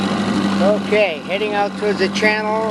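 A 1969 4 horsepower antique outboard motor idles steadily on a boat, a low constant drone under a man's close, clear talk.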